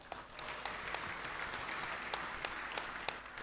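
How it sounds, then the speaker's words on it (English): Faint, continuous applause from a seated audience at the Perodua Myvi world premiere car launch, with a few sharper individual claps standing out over the steady patter. "Let's also give them a round of applause."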